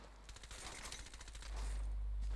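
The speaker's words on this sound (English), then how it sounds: "Ash is testing her recoil" Automatic weapon fire in Rainbow Six Siege, a rapid burst of shots from an operator testing recoil, dense and fairly faint, giving way to a steady low rumble in the final second.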